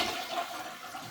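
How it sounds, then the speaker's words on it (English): A toilet flushes with a short rushing swirl of water into the bowl, close and clear, with no talking over it. "Then I just flush it down."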